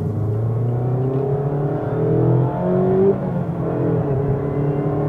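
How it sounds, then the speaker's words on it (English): In-cabin engine sound from a 2019 Mazda Miata RF GT as it pulls through the revs, a steady, fairly loud drone rising and shifting in pitch, with a short chime near the middle and no talking. "Definitely freely revs."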